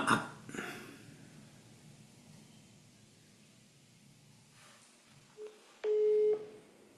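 A telephone call in progress gives a short electronic tone near the end, a steady beeping dial or ringback signal heard after a stretch of quiet room noise and a brief bump at the start.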